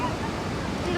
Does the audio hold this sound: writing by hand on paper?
no